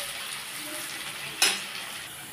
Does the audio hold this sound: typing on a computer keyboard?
no